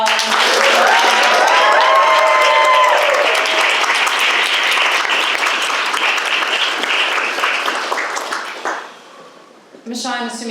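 A crowd at a live literary reading event claps and cheers loudly, the applause thinning and fading toward the end before a brief burst of voices.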